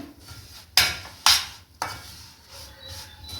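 A thick jaggery and roasted peanut chikki mixture stirred in a pan, with three loud scraping strokes of a spoon against metal, followed by quieter rubbing and clinking, close up and without talk.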